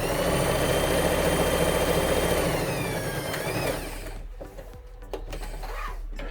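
Sewing machine stitching a fabric school pencil case, running in a steady, loud mechanical whir for about four seconds, then stopping and leaving quieter handling noises and faint clicks.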